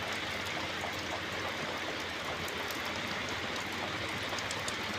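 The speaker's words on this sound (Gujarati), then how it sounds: "વરસાદ આજે 3 વાગ્યાના પાછો ચાલુ થઈ ગયો છે" Steady rain falls on an outdoor scene, a continuous broadband hiss with scattered drop patters, even and unbroken throughout, with no voices.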